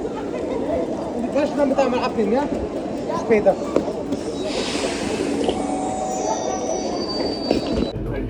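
A passenger train near Ulm, Germany, carries riders with bicycles and luggage as it rolls along the rails. A low rumble runs throughout, and a thin, high wheel squeal rises near the end, under steady nearby chatter.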